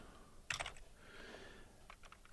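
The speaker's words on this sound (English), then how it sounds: "And let's type them in the correct position." Typing on a computer keyboard, a short run of crisp key clicks led by one sharp louder tap, close and quiet.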